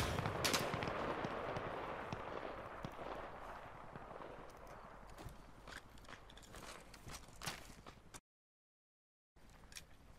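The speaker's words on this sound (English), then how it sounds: "Shooting at friendlies on this building! Cease fire!" Gunfire in the military shooter Arma Reforger, rapid cracking shots in bursts echoing across open ground, fairly faint and distant, with a brief silent gap near the end.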